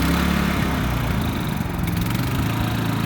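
A Generac IQ3500 portable inverter generator runs steadily after an electric start, its engine a continuous, fairly loud low hum with a mild mechanical rumble and no talk over it.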